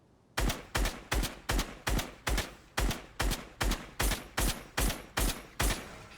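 AK and SCAR rifles fired in the Fortnite video game: thirteen evenly spaced loud gunshots in a steady semi-automatic rhythm, close and alone with no talk.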